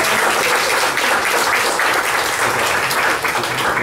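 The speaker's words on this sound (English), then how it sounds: "Please give her a hand." An audience at a grand opening event applauds steadily. The dense clapping is loud and continuous for the whole stretch, with no voices on top.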